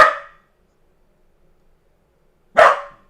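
A dog gives two sharp, close barks about two and a half seconds apart, with silence between them.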